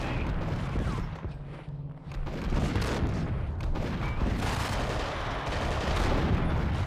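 Heavy, continuous gunfire and booming impacts from the Max Payne video game, loud and dense throughout with rapid overlapping shots and a brief dip near the start.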